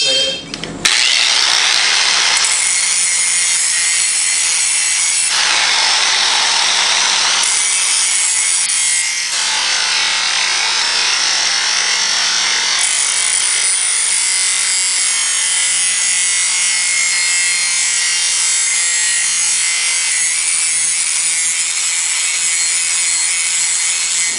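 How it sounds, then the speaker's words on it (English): Blades being sharpened on a grinder-type sharpener with a threaded bolt and adapter, producing a loud, continuous grinding and rubbing hiss that shifts in intensity over its length, heard alone without talk. "we're going to put an edge on these blades real quick"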